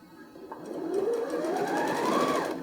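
A sewing machine runs steadily while chain piecing fabric for a bag with zipper tabs, its motor whirring at a rising pitch with a rapid needle chatter, close and continuous.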